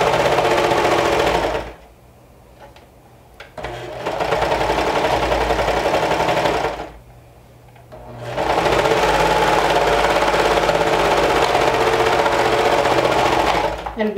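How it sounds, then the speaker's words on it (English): A sewing machine running a triple stretch stitch on a dress bodice, loud rapid whirring in three long bursts separated by two short pauses. "Just make sure if you do use your sewing machine that you use a stretch stitch, like a triple stretch stitch."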